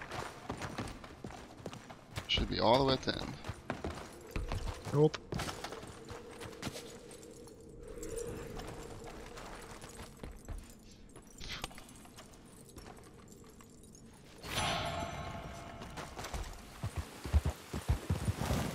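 Horse hooves clip-clop in Red Dead Redemption 2, a few close steps at first, then further irregular hoof beats later on, with brief talk at the start and game ambience underneath.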